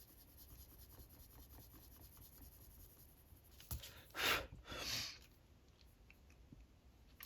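A Glacier Blue Gorge coloured pencil burnishes a colouring page, a soft faint scratching of close strokes that builds into a few louder rubbing passes near the end, quiet and without talk.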